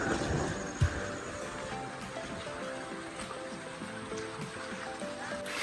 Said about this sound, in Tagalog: Maririnig mo lang yung ano, yung tubig po baba, yung agos.